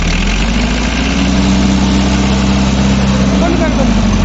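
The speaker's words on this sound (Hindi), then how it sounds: "सिर्फ आवाज़ आ रही है ट्रैक्टर की" A 1971 England-built Mahindra International 276 diesel tractor runs steadily up close, its loud, low engine drone holding an even pitch throughout without a clear rise in revs.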